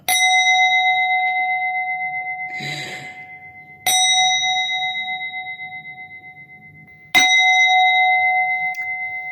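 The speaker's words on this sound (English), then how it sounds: "And Karabo, would you like to gong us out" A small metal gong or bell is struck three times at a podcast with prayers, each stroke ringing out bright and clear before slowly fading, with a brief rustle between strikes.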